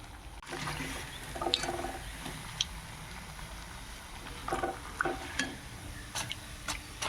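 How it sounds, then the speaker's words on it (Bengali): Onion fritters (peyaji) frying in a pan in a village kitchen, a steady low sizzle of oil broken by several brief clinks and stirring scrapes, close by with no talking. "আমি এখন এই পেঁয়াজিগুলো ভেজে নেই।"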